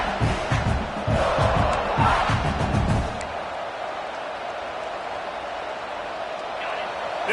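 A football stadium crowd roars loudly for about three seconds, a dense wash of shouting and cheering, then drops to a fainter, distant murmur.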